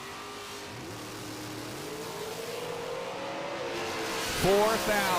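Drag cars, one of them a Mustang, launching side by side at Maryland International Raceway in a PDRA elimination round. Engines build and rise in pitch as the cars leave, and a loud surge comes near the end beneath an announcer's commentary.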